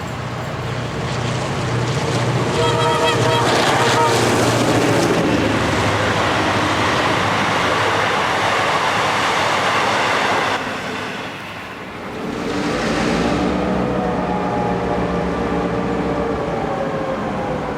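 The preserved Spirit of Progress luxury train rumbles loudly along the rails in Victoria, a steady roar with rhythmic clatter that briefly dips before surging back.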